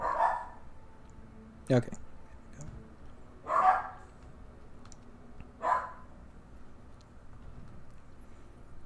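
Dogs bark in the Marvel's Midnight Suns video game, three or four short, moderately distant barks spaced a couple of seconds apart under quiet ambience, with someone briefly speaking.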